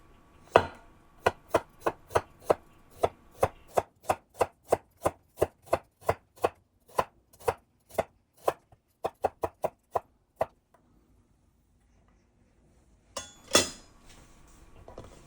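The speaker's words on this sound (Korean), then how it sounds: "그리고 생강 한 톨을 얇게 썰어줍니다." A knife thinly slicing a piece of ginger on a cutting board, a long run of crisp, evenly spaced chops close up, speeding into a quick flurry before stopping, then one last knock after a pause.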